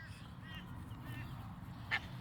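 Large cockatoos calling from trees in the evening, a few short harsh squawks at moderate distance over a steady low background rumble.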